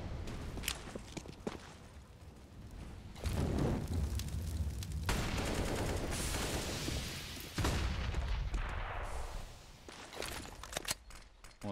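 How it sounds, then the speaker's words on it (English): Grenades burst during a Counter-Strike match on the Inferno map, with several heavy booms and blasts mixed with gunfire and footsteps, loud and close, and no talk over them. "More nades from G2 here to counter"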